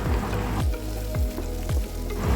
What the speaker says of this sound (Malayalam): 1 ടീസ്പൂൺ മുളക് പൊടിയും 1 ടീസ്പൂൺ മല്ലിപ്പൊടിയും 1/4 ടീസ്പൂൺ മഞ്ഞൾപ്പൊടിയും ചേർത്ത് ചെറുതായി ചൂടാക്കിയെടുക്കാം.